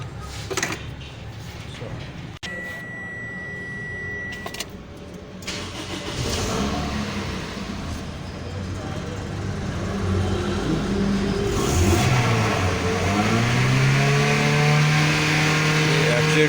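A Toyota Corolla with a P0102–P0113 sensor fault is started and its engine revved as the accelerator is tested, rising to a loud, steady, climbing rev that does not reach full throttle, with a faint voice early on.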